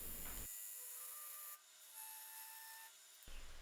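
A lathe cutter thins the wall of a wooden platter, making a continuous, close hissing scrape that changes tone partway through as the cut shifts, with no voices.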